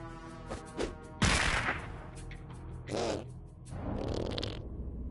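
Turret gunfire at a police station in South Park: The Fractured But Whole comes in sharp, loud bursts: one heavy blast early on, then two more sustained volleys separated by brief quieter gaps.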